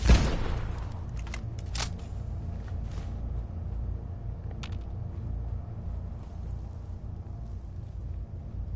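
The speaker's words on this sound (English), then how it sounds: "We had a big explosion there" A big explosion in the video game Fallout 4 opens with a loud burst, then settles into a low rumbling tail with scattered faint cracks and clanks over several seconds.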